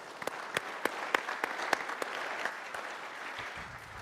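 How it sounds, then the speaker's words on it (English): An audience at a panel event applauds for Kevin, with a burst of crisp, fairly sparse clapping that carries on steadily and then tapers off toward the end. "Can we just have a round of applause for Kevin?"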